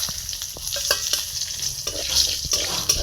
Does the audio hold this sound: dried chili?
yes